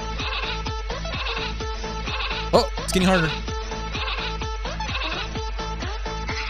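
Cartoonish sheep bleats repeat in a quick, steady rhythm from a mobile video game, looping insistently while a person talks over them with excited reactions.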